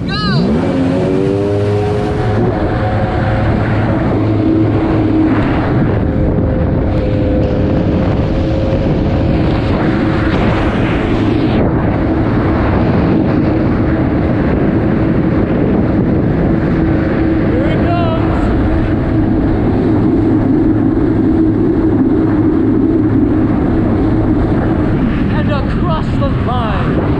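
A GP1200R and a WidowRaider personal watercraft race side by side, engines roaring loud and close with a continuous high whine, wind and water rush buffeting underneath, and occasional revving shifts through the run.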